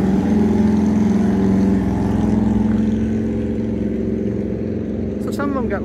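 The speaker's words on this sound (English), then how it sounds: "Wait for this motorcycle." Motorcycle passing by on a road near an old jail site, a steady engine drone that swells and slowly fades, heard under continuous talk.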